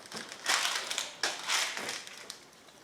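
Worn spindle bearing from a Grasshopper 718 lawn mower turned by hand, giving a faint gritty, crunching rasp in a few uneven bursts, close and quiet with no talking.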